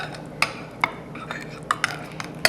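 Pressed garlic is worked into a Dijon mustard crust with a utensil in a bowl, producing a run of light, irregular clinks and scrapes against a quiet background.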